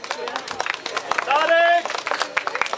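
Outdoor crowd at a charity run finish in Czarnków clapping and cheering a runner as he comes in, scattered claps under an announcer's voice and a brief whistle-like tone in the middle.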